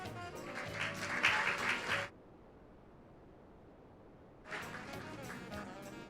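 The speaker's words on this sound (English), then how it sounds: "A round of applause for Dr." Applause from an audience at the National Minority Quality Forum's 2024 Leadership Awards Reception and Dinner, a burst of clapping that stops abruptly, a pause, then a second round of clapping begins.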